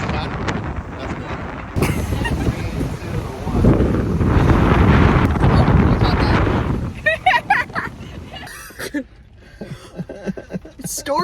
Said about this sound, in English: It's storming out there.